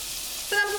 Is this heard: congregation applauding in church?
no